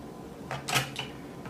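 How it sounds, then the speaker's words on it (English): A screw being driven back into the pump of a Zojirushi hot water boiler, heard as a few soft, close clicks and scrapes in a quiet room with no talking. "And then we use that screw and put it back in"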